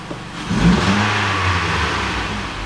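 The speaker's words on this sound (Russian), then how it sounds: "Двигатель прогрелся. Проработал минут, наверное, 40 уже." A 2013 Mitsubishi ASX with a 1.8 engine, warmed up after a replacement, revs briefly: a close, loud throttle blip that rises within the first second and then settles into a steady, smooth hum.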